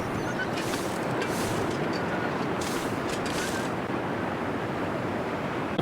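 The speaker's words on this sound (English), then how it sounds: "Because the waterfall is really loud." Loud, steady roar of a waterfall in the survival game The Long Dark, a constant broadband rush of falling water that fills the scene without pause.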